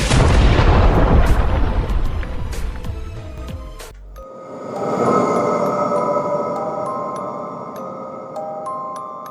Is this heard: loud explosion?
yes